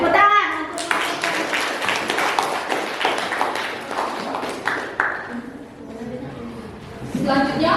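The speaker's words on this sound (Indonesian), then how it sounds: "Tepuk tangan." Students in a classroom clap briefly in a scattered burst that tapers off, with children's voices talking over and around the applause.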